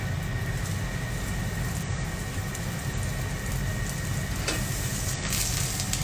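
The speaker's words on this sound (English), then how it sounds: "I start with cooking the mushrooms. So we made a mix of erinki and" Mixed mushrooms including eringi frying in a hot pan, a steady broadband sizzle and crackle that holds at an even level throughout with no voices.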